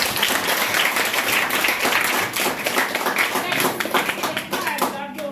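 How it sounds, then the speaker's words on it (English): An audience at a primary school Literacy Day event gives a dense, sustained round of applause. Many hands clap loudly and steadily throughout, and the sound thins slightly at the end. "I think he deserves a bigger and better round of applause."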